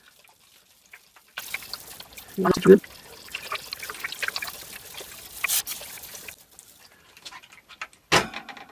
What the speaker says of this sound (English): now we'll water it down real good